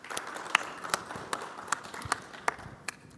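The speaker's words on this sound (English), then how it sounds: "Please join me in welcoming these panelists with a round of applause" A small audience gives a round of applause for panelists at a panel session on diversity and fairness in model governance, with sparse individual claps spaced out at a faint, distant level.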